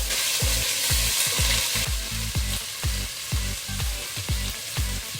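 Garlic ginger paste fries in oil for Jamaican oxtail, with a bright, loud sizzle broken by regular rhythmic thumps of stirring close by and no speech.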